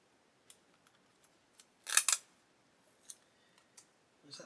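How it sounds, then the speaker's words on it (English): Sellotape being pulled and snipped off a boxed DaLiGeJian 1/350 model kit: a couple of sharp tearing rips in the middle, with scattered faint clicks and light handling noises around them, close and quiet. "we'll get the sellotape off so that I can open it"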